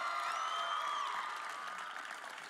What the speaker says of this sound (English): I think she needs another round of applause.